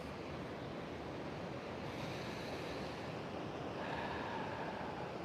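Ocean surf rolls in along the San Diego oceanfront as a steady, dense wash of waves, with some wind noise on the microphone and no voices.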